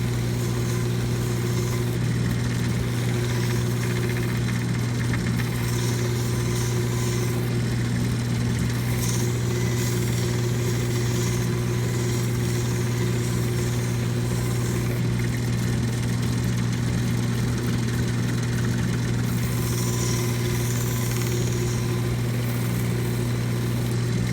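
Soft polishing wheel grinding a Petoskey stone, a steady loud motor drone with a constant low hum and fluctuating high hiss from the stone pressed against the wheel, running continuously with no talking.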